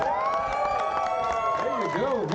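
A lively crowd cheers and whoops at the McCall Plaza stage in historic downtown Plano, Texas, steady and fairly loud throughout, with voices and shouts rising and falling across the mass of noise.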